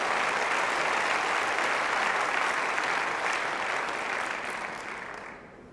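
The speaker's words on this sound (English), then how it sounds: "So the applause there, causing Corsie to delay just a little before bowling this, his third delivery of the end." Crowd applause at a lawn bowls match: a dense, steady wash of clapping that holds level for several seconds, then thins and fades away near the end, with no voices over it.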